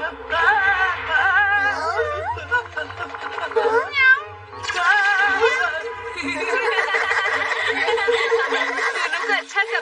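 Cartoon cat meows from a Hindi-dubbed Doraemon episode, several wavering, sliding cries coming in bursts close up, mixed with other cartoon voices and background music.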